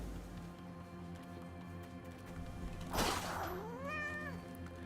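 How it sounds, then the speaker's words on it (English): A game cat gives a single drawn-out meow with a rising then falling pitch, near and clear over a steady hum of game music and ambience, following a brief bright rustling burst. "We chat with the cat"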